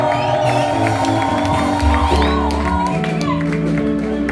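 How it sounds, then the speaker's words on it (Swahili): A church congregation shouts and cheers loudly together. Voices rise in a dense crowd roar with whoops and a few high trilling cries. A nearby voice speaks through the noise. "Wapi shangwe na vigelegele"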